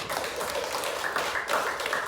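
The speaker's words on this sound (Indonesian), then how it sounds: "Bagus, tepuk tangan semuanya." Schoolchildren in a classroom clap together after their teacher's praise, a dense, steady patter of many small hands close by that swells slightly midway and carries on without a break for the whole stretch.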